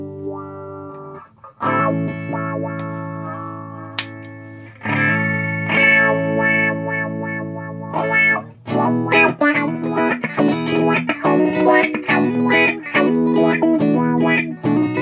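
Electric guitar run through an effects pedal switched on and off repeatedly, distorted notes and chords that cut in and out with little breaks between, loud and close.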